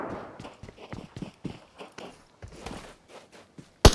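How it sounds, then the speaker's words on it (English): Footsteps in an online shooter video game, a string of uneven steps and scuffs at moderate level, ending in a sudden loud burst. "I hear footsteps."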